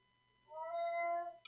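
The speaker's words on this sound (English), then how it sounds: "My cat's meowing right in the middle there." A cat gives a single drawn-out meow, clear and fairly close, rising and holding before trailing off, followed by a brief tap, in an otherwise quiet room.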